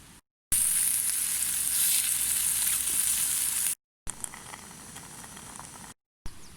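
Bacon and sausages sizzling steadily in a pan for a winter wild-camping breakfast, a constant bright crackle close to the microphone, interrupted by two brief silent gaps.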